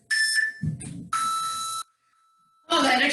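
A workout interval timer sounds electronic buzzer beeps, including a long sustained beep marking a one-minute break, loud and close, with a short burst of talk in between.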